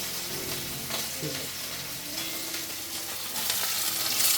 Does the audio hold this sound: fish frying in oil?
yes